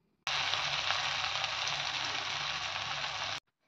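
Pakoras frying in hot oil over a low flame give a steady, even sizzle that starts abruptly, holds for about three seconds and then cuts off, with no voices.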